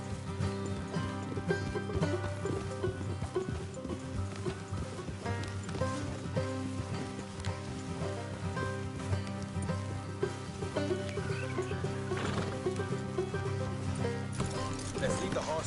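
Horses on a road shift and clop their hooves, with scattered hoof knocks and occasional snorting or whinny-like sounds, moderately close and fairly quiet, mixed under a busy outdoor background with some voices.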